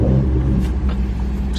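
A BMW 435i idles with a low, steady rumble close by, one constant throaty drone with no clear revving, and nobody talks over it.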